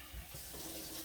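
Running water pours from a kitchen tap while hands are washed during keto shrimp fried "rice" cooking, a steady soft hissing stream, fairly quiet and heard without voices.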